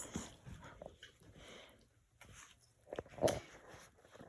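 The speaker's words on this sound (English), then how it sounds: "Don't mind my dogs." Pet dogs moving about indoors, with soft footsteps, scuffling and a brief whimper, fairly close and intermittent.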